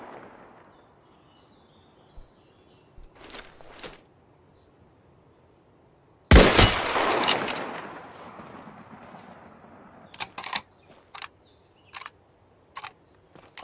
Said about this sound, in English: I love sniping. Sniping's so much fun.